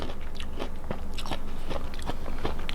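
Crisp mangosteen dipped in salt being bitten and chewed close to the microphone, a quick series of sharp crunchy bites and wet chewing clicks in steady rhythm, with no talking.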